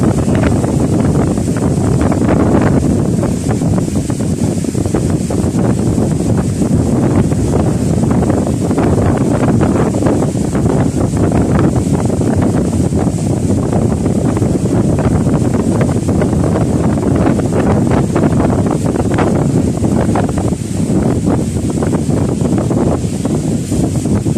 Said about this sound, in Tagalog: Enjoy na enjoy sila kasi malakas yung hangin.